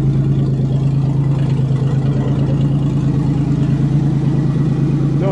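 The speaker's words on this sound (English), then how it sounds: "Don't you love the sound of redneck exhaust in the afternoon?" Loud, steady engine drone from the exhaust of a 1990 Buick Century with a rough, redneck-style exhaust that had not been started for months, heard up close with a constant low rumble and no clear rev peaks.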